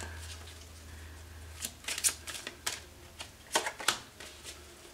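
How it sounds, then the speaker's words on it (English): Tarot and oracle cards being shuffled and riffled close up, a quiet run of crisp, clustered flicks and snaps with short gaps, no voices. "Sometimes I throw the cards all over the place."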